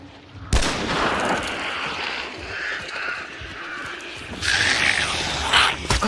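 Explosive ammunition tears through brick walls in a shooter game: a sharp, loud shot opens a rolling barrage of crackling impacts and debris, then a second burst of heavy fire follows, all close and continuous.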